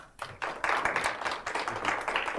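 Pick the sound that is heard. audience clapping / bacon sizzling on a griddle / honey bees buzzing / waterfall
audience clapping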